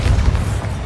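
A Repulsor spell cast in Hogwarts Legacy, a short heavy booming burst with a deep low thump, loud and close.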